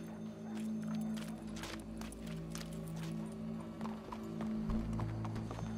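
Horse hooves clip-clop steadily on the ground in Red Dead Redemption 2, a continuous walking rhythm over a low hum of ambient game sound, with occasional soft snorts and no speech.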